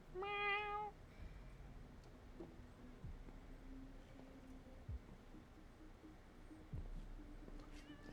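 A cat lets out one short, clear meow at the start, close and fairly loud, followed by a quiet room with a few soft thumps and faint background noise.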